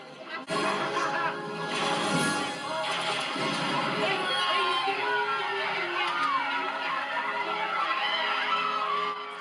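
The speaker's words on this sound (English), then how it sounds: "And the crowd goes wild" A crowd cheers wildly in the film The Last Starfighter, a dense, continuous roar lasting about nine seconds with voices and clatter mixed in.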